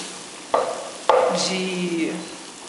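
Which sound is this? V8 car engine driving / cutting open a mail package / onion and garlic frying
onion and garlic frying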